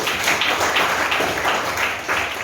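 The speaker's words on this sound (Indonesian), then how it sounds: "tepuk tangan untuk teman kita" Classroom of high school students applauding a classmate, a dense, steady wash of clapping from many hands in a room, loud and continuous throughout.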